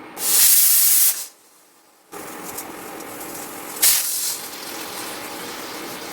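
Pressure cooker on an induction stove cooking rice releases loud, close hissing bursts of steam, one long blast, a brief near-silent pause, then steady hiss with a second sharp surge.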